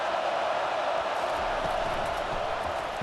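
Steady roar of a college football stadium crowd at Clemson versus South Carolina, a dense continuous wash of massed voices holding level throughout, loud and unbroken without distinct cheers standing out.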